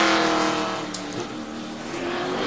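A NASCAR Gen 4 race car on a qualifying run, its engine holding a loud, steady drone close by, with a brief sharp click partway through and no speech.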